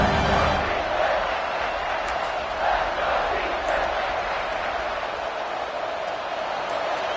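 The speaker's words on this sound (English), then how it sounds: "And here comes the noise. This crowd is trying to inspire this defense to make a big red zone stop." A football stadium crowd roars late in a game as the home defense faces a red-zone stand, a dense steady wall of cheering and yelling that stays loud throughout.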